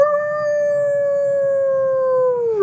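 A person imitating a dog howling at the moon, voicing one long, steady, tonal howl that slowly falls in pitch, loud and close with nothing else heard.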